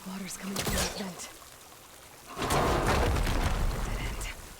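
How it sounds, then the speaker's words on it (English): Water gushes from a vent in the game Horizon Forbidden West: after a few brief voiced sounds, a loud, steady broadband pour starts midway and runs to the end. "Water's coming from that vent."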